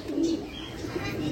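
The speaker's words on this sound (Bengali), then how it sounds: "ধরেন এই যে একটা কবুতর আপনারা দেখতেছেন" A pigeon gives a low, soft cooing call in a couple of short warbling phrases, fairly close but quiet, over a faint background hum with no talking.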